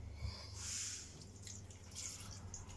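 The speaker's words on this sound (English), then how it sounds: "now we're going to add some water" Water is poured into a pan of chorizo, beans and potatoes stew, a soft splashing trickle with gurgling bursts, quiet and close, with no one talking.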